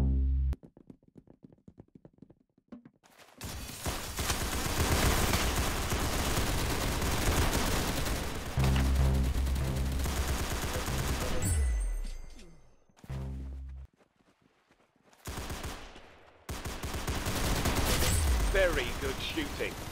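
Bursts of gunfire from the Roblox shooter game Arsenal, dense rapid volleys with short gaps between them and a brief silent stretch, loud and close, with a voice speaking over parts of the shooting.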